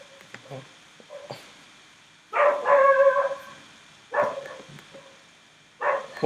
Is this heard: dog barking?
yes